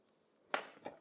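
A metal knife blade clinks faintly on a pan while lifting sliced pears for a puff pastry pear frangipane tart, two or three quiet, brief taps in a quiet kitchen.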